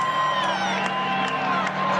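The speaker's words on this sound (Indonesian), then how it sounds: "Kerumunan warga di lapangan Santo Petrus ini pun bersorak-sorai" A large crowd in St. Peter's Square at the Vatican cheers and whoops loudly as a new pope is chosen, a dense, sustained roar of voices with a few whistles rising above it.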